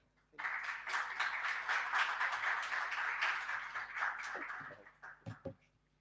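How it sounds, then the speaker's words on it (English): An audience at an open science event gives a round of applause for Miro, steady dense clapping for several seconds that tapers into a few scattered claps. "please join me with a round of applause to Miro"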